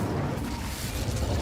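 The Incendio fire spell cast in the video game Hogwarts Legacy, a steady roaring burst of flame with a dense low rumble sustained throughout, loud and close, with no speech.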